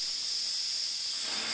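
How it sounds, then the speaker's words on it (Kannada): A pressure cooker cooking lentils with turmeric for bassaru releases steam through its whistle, a loud, steady, high hiss held close and unbroken. "ನೋಡಿ, ವಿಸಿಲ್ ಬರ್ತಿದೆ"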